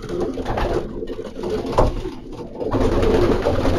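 Racing pigeons in a loft coo softly amid a dense, close rustle of birds. The cooing comes as low repeated calls with no talk over it.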